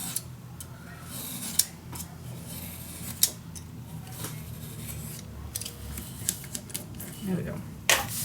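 Scissors snipping through paper for a handmade mini album in a box, close irregular crisp cuts and soft rustling, with a few sharper clacks and a voice talking at times.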